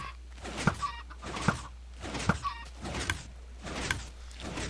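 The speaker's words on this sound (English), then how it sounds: "Chickens are coming." Blocky video-game chickens in Minecraft cluck in a steady series of short, bright calls roughly every half-second to second, fairly close, over a constant low hum with no talking.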